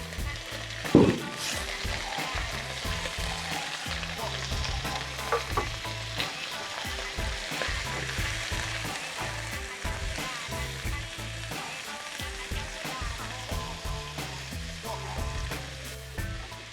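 Shrimp frying in a pan for Thai shrimp curry (goong pad pong karee), giving a steady, close sizzle with a few stirring clatters over background music, with no talking.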